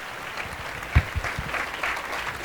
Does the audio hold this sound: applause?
yes